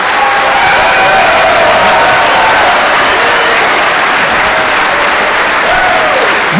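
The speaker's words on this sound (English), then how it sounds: "let's get a round of applause for everybody who helped out" A large conference audience at a Defcon award ceremony applauds for the show helpers, loud, dense clapping sustained throughout with some whoops and crowd noise mixed in.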